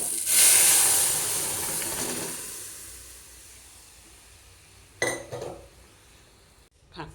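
Boiled toor dal poured into hot tempering for Uttara Karnataka kadbele saaru, a loud burst of steamy hiss that fades over a few seconds, followed by metal spoon clinks against the pot.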